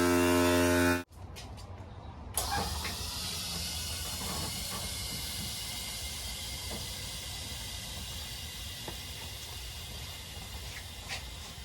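Compressed air hisses steadily and loudly into an air suspension bag on the tilt bed of a mini truck, after a short hum, and continues without a break.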